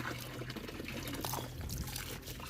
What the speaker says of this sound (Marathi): आता यातलं पाणी टाकून दे.